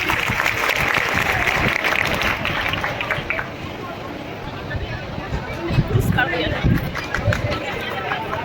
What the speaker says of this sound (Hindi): एक बार जोरदार तालियां पुनः इस बच्ची के लिए